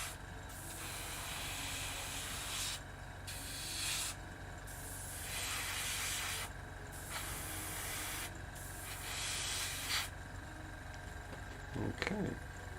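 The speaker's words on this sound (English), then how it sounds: "Actually try out the new airbrush as well." Airbrush spraying paint onto Khorne daemon miniatures, a close, steady hiss broken into several bursts a couple of seconds long with brief pauses between, plus a faint knock near the end.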